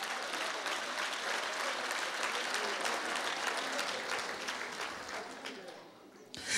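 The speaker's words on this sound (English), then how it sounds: "Come on, clap your hands." A church congregation claps, a dense, steady wash of many hands that carries on for several seconds before fading, with voices faintly mixed in.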